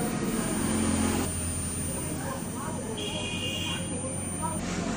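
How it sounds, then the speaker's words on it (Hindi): A multimeter emits a continuity-test beep while its probes are shorted during wiring checks on a Hero BS6 motorcycle fuel injector. A single steady, high beep lasts about a second over constant background hum and noise. "इसके अगर दोनों वायर को शॉर्ट करेंगे तो बीप का साउंड आना चाहिए"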